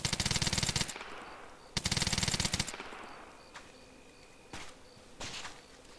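Automatic gunfire in Arma 3, aimed at weapon smugglers: two loud sustained bursts of rapid shots close by, then scattered fainter single cracks and short distant bursts trailing off.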